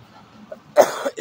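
A person recovering from nine days of coughing attacks coughs in a few harsh, close bursts after a quiet stretch, with a shorter cough trailing at the end.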